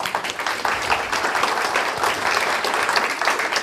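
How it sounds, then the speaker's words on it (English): Steady applause from a conference audience at WikidataCon 2017 fills the room, dense clapping continuing evenly throughout at close range with no speech over it. "A round of applause for you."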